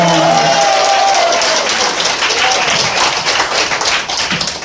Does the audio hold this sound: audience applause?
yes